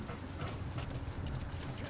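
Horse hooves clip-clopping in Metal Gear Solid 5, a quick run of soft, close thuds mixed under people talking.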